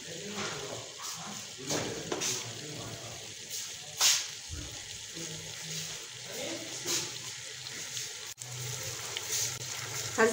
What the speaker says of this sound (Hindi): अब मैं डालूँगी आधा कप पानी